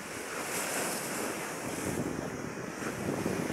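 Rough, churning sea waves breaking against a seawall at New Washington, Aklan, a continuous loud roar of surf with wind buffeting the microphone and no voices.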